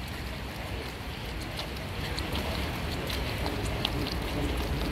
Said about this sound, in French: Il s'est pas arrêté de pleuvoir un instant.